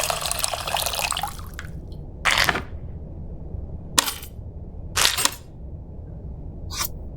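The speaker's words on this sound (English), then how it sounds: "I do that by putting the sieve on the empty bowl and pouring from the first one." Tamarind water poured through a sieve into a bowl in the cooking game Venba, a burst of splashing pour followed by several short, separate liquid splashes and drips, close and clear with no talk.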